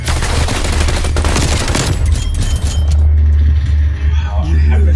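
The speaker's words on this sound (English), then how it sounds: "I have to shoot 15 bullets into this guy's head in order to kill him" Rapid gunfire in a Call of Duty multiplayer match, a loud dense burst of shots for the first couple of seconds, then a steady low engine-like drone with a voice talking over it.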